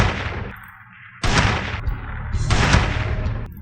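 Heavy gunshots from the mobile shooter Sniper 3D come as two loud booming blasts, each ringing out with a long decay. A quieter rumble sits between them.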